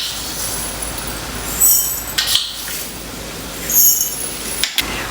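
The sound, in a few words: crushed peppercorns and mustard seeds added into glass jar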